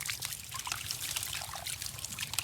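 Water trickles and pours onto a toy sand dump truck as it is washed, a steady close splashing stream with no talk.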